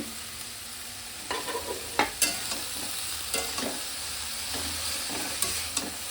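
Water spinach, kolmi shak, stirred in a frying pan: a soft steady sizzle with scattered spatula scrapes and taps against the pan, fairly quiet and close, with no voices.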